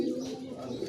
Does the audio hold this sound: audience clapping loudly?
no